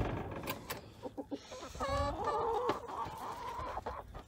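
Black Australorp and Rhode Island Red chickens on a farm clucking close by, a run of short clucks leading into a drawn-out squawking call, loud and clear with no talk over it.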